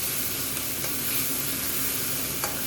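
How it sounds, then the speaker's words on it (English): BIR-style curry frying on very high heat on a domestic cooker, spitting: a dense, continuous hiss of hot oil with a few sharp pops and spits, close and steady throughout, with no voices. "now I'm cooking this on extremely high heat"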